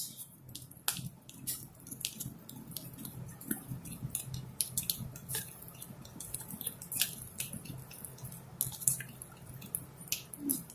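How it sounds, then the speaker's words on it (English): Food colouring stirred into icing in a clear cup, giving soft repeated clicks and light scraping taps close up, fairly quiet and steady, with no talking. "Just want to add a few drops and then mix."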